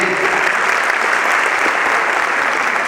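Audience applause following a theater drama performance, a dense, steady wash of many hands clapping throughout, loud and close with no talk over it.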